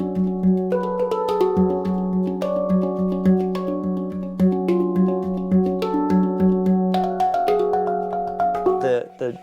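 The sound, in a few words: pan drum being played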